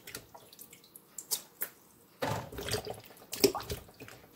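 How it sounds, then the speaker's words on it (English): Tap water runs while fresh strawberries are rinsed in a sink, with scattered splashes and short bursts of flow rising louder toward the end, close and alone. "we want to make sure we wash the strawberry very well to remove the sand"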